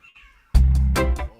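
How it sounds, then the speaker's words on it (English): A cat outdoors gives one drawn-out meow, clear and fairly loud, after a brief stretch of faint background sound. "Oh, did you hear my cat? Or no, that's a cat outside."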